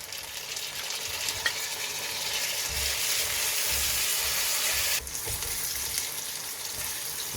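Onions and tomatoes sizzle and fry steadily in a pan for a lamb curry with potato, a continuous hiss with faint stirring scrapes and no talking.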